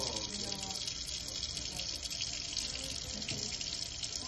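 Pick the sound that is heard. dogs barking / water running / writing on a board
water running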